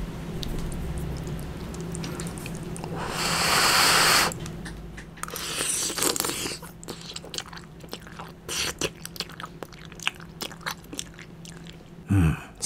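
Close, wet chewing and slurping of spicy mala lamian noodles, eaten alone with no talk: soft irregular crunches and smacks, a louder burst near the start, then a scatter of separate bites.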